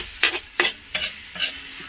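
Garlic sautés in a pan as a utensil stirs it in four quick, evenly spaced scrapes over a low sizzle, close and alone with no voices.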